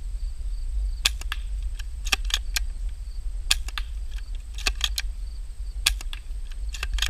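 An airsoft gun fires repeatedly downrange at a homemade target outdoors, making sharp, snappy cracks in irregular bursts over a steady low wind rumble, with no talking.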